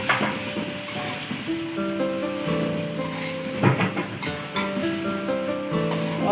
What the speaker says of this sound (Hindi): तो प्याज के साथ ही मैं चिकन डाल दूँगी।